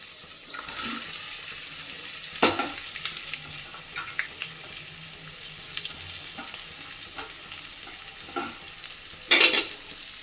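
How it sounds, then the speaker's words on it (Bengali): Finely chopped onions fry in hot oil in a home kitchen, a steady low sizzle with occasional sharper crackles and clatters of stirring, fairly quiet and without talk. "তেলটা গরম হয়ে গেলে এবার পেঁয়াজগুলো দিয়ে দেবো এর মধ্যে"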